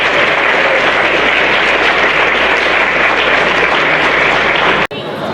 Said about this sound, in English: Let's just get one more round of applause for our great panel and great discussion.